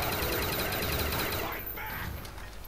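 Rapid video game gunfire from Call of Duty Black Ops zombie mode, a dense fusillade of shots that thins out midway, with game noise continuing beneath.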